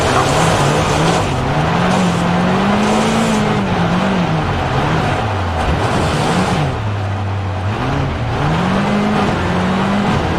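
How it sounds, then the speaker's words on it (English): A rally car in Richard Burns Rally power slides through a corner, its engine droning loud and steady with pitch dipping and rising as the throttle is worked, under a constant wash of gravel and tyre noise. "When you reach the blue cones, initiate the power slide. Use the throttle and steering to continue the slide through the corner."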